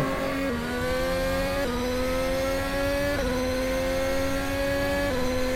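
Race car on an out lap, its engine droning loud and close with steady harmonics that climb through the gears in repeated upshifts, no talk over it.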